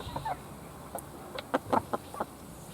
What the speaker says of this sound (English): You're a good little chicken in every other way.